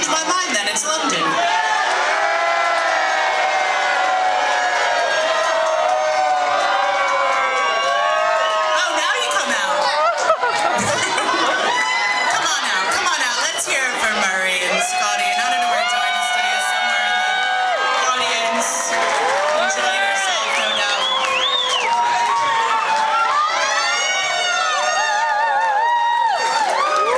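A large London audience at a live comedy or entertainment show cheers, whoops and yells in a dense, continuous roar, with high-pitched shouts and laughter rising above the crowd throughout.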